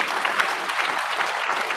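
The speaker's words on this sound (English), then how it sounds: "One more round of applause for Yeah. Sandra and Peter." Audience applause at a live show, a dense, steady burst of clapping from a crowd that holds at an even level throughout.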